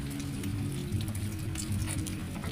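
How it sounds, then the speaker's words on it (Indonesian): Rain falls in a steady, dense patter that holds evenly throughout, a close and continuous wash of drops with no voices. "Soalnya masih hujan."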